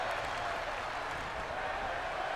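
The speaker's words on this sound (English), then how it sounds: "the crowd is actually chanting, "We're not worthy."" A wrestling arena crowd at a main event applauds and chants in a dense, steady wash of noise heard from a distance, with no clear single voice.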